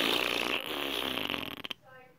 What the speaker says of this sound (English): were you gonna fart our way to space like this?